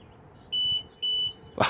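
Two short, high electronic beeps from a Hansshow power trunk on a Tesla Model 3 during setup, evenly spaced, followed by a brief clunk.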